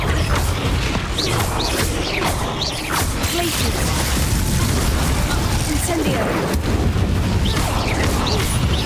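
An Incendio fire spell is cast in the Hogwarts Legacy video game, heard as loud bursting, crashing blasts within dense combat noise, with voices speaking over the action.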